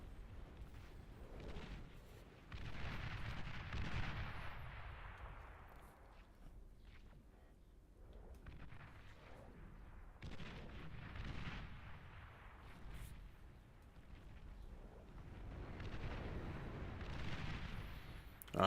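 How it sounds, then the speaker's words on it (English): Napalm strikes in a war video game erupt as rolling, roaring waves of fiery blasts, long muffled rumbles that swell and fade repeatedly at moderate distance, with no speech over them. "That's a lot of napalm."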